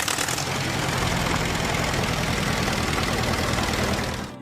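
A 1953 Allis-Chalmers WD-45 tractor engine is running with a steady, loud, throbbing low rumble and a knocking pulse, close up, with no voices over it.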